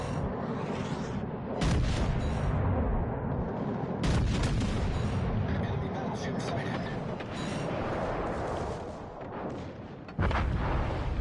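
Heavy naval guns on the ship Agincourt in World of Warships firing single shots, several deep booming blasts spaced a few seconds apart over a constant low rumble of engine and sea, with a voice talking throughout.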